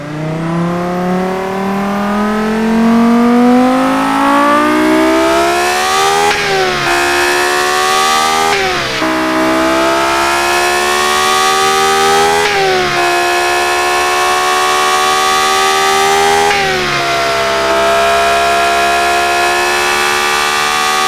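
A V10 engine screams through repeated high-revving pulls, pitch climbing steeply then dropping sharply between each rev, loud and close with no talking.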